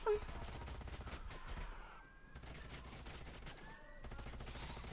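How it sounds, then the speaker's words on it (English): Gunfire in the video game Planetfall as units are shot down, quick faint bursts of shots mixed with game sounds, heard quietly and low in level. "And as you can see, they immediately get shot."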